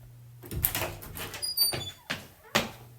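A door opening, with scraping and sliding noises in several uneven bursts and a faint squeak, fairly close, with soft movement and background sounds in between.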